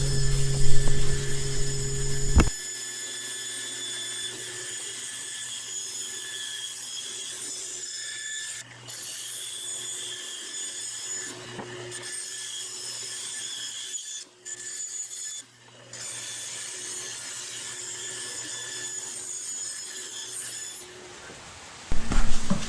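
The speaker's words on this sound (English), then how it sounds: "Next we'll cut them on my bandsaw." A bandsaw hums steadily while cutting wood pieces for a candy dispenser, with a continuous rasping cut that pauses and resumes several times before the motor stops near the end.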